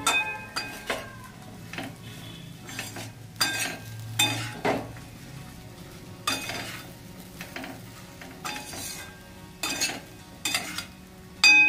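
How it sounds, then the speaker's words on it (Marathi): Brinjal pieces being stirred with salt into masala in a pan, giving repeated scraping and clattering strokes of a spoon against the metal in irregular bursts with a faint sizzle, close and fairly quiet, no talk. "हे असं मसाल्यामध्ये मस्त असं हलवून घ्यायचं याला."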